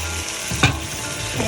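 Meat drops into cooked tomato masala in a pan, a dense steady sizzle broken by one sharp splattering burst midway, close and loud with no talk.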